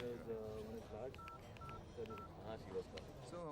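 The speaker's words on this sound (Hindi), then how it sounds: "तो फोन उठाओ, घुमाओ" Telephone keypad tones beeping in a short sequence of steady dial notes, heard under ongoing speech and background music.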